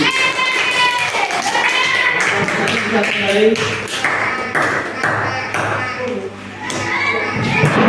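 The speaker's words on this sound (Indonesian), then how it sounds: "tepuk tangan untuk kelompok 1" Children in a classroom clap for a group of classmates, a dense run of hand claps under steady children's chatter throughout.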